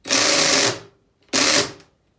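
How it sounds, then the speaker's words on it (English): Two short mechanical whirring bursts from a cordless drill as its clutch engages while driving a screw, each under a second, separated by a brief pause, close and fairly loud with no talking. "that is the sound of the clutch engaging"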